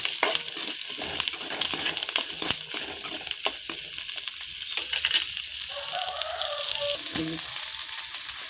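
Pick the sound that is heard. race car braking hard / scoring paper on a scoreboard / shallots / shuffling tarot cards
shallots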